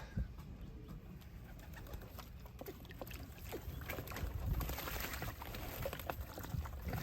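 Young pigeons gathering at a freshly filled water bath outdoors on a hot 84-degree day, soft cooing mixed with gentle splashing and water movement, steady and fairly close with no talking.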